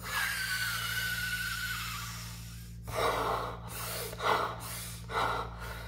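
A person imitates a newborn's first breath with several sharp, forceful gasping inhalations over a steady low hum.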